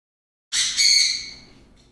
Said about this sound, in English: What is my bird going on about?